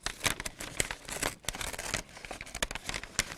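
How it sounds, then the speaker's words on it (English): Paper bag being cut open for an armhole with scissors, a close run of crisp crinkling, crumpling and snipping sounds in uneven bursts, with no talking. "So first we cut out an armhole."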